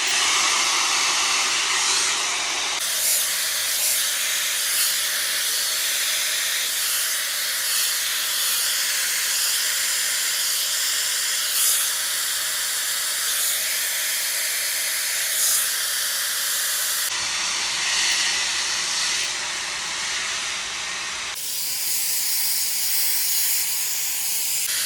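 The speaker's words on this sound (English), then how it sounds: "let me get my hair fully dry" Hair dryer blowing on coarse curly hair, a loud continuous roaring hiss held for most of the stretch with brief drops and shifts in tone as it moves.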